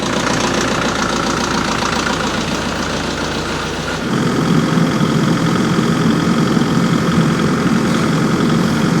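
A diesel tractor engine cranks and catches after its glow plugs warm in 26-degree cold, then settles into a loud, close, steady knocking idle.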